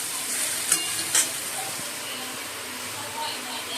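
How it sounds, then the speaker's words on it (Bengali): Potatoes frying in a pan beside a chaumein dish, a steady soft sizzle running throughout with a couple of brief clinks of stirring early on. "আর এদিকে আলুগুলো ভাজা বসিয়ে দিয়েছি"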